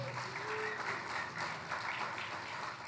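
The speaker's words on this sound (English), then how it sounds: "Let's give her another round of applause." A sustained round of applause rises from the audience at the White House Tribal Nations Summit, a dense wash of clapping at fairly close range with no clear pauses.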